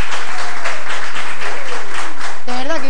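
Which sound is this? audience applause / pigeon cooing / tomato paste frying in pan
audience applause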